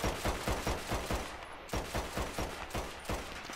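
Rapid pistol gunfire in the Red Dead Online video game: a steady string of sharp, loud shots fired in quick succession, with no voices.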